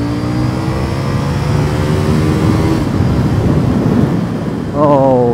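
A CF Moto NK800 naked motorcycle, sharing its engine with the KTM 790, drones steadily while ridden, its engine note shifting pitch and rising into a sharper rev near the end, close and continuous with wind noise.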